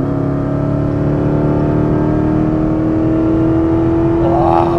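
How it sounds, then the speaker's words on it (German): Dodge Charger Hellcat, 717 hp and 881 Nm, on kickdown at 160 km/h: a loud, steady engine roar with a strong low drone that holds throughout and swells slightly near the end. "weil solange das Auto beim Kickdown bei 160 das hier macht"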